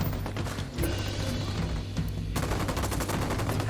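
Sustained gunfire in Ghost Recon, dense rapid shots from several weapons overlapping in a loud continuous barrage with a brief lull partway through.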